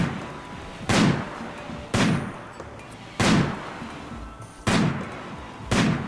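Sniper rifle gunfire in the RimWorld video game: five loud, sharp single shots spaced about a second apart, each with a short booming tail, alone without talk.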